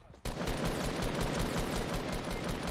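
Gunfire in a shooter video game: after a short quiet moment, a loud, dense burst of rapid automatic fire starts abruptly and runs without a break to the end.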